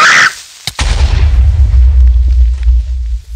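A Minecraft creeper detonates in a single sudden loud boom after a short hiss, followed by a low rumbling aftermath that fades over a few seconds.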